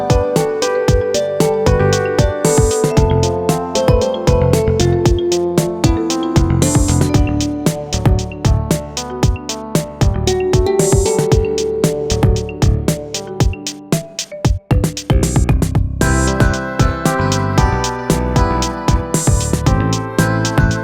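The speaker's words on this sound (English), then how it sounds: "I'm going to make a track using only Wii Music sounds" A busy, continuous track built only from Wii Music video game instrument sounds plays loud and dense throughout, with steady beats, layered tones and a brief drop near the middle before it resumes.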